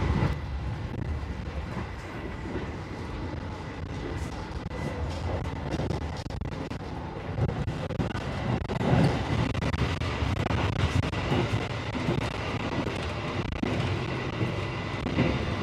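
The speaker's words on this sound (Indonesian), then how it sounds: "Sudah bisa ngicipin kereta New Generation ya, perjalanan dari Purwokerto sekitar jam 11:12" Indonesian New Generation passenger train travelling from Purwokerto toward Cirebon, a steady loud interior rumble of wheels on rails with rhythmic clatter and rolling noise throughout, no voices.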